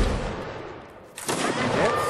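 A musket volley fires on command in a period battle video game. The massed shots crack out together in one sharp burst, then reverberate over a faint voice.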